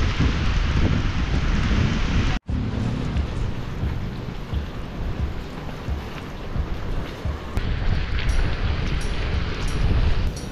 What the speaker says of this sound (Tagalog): Inabot na kami ng ulan malamig.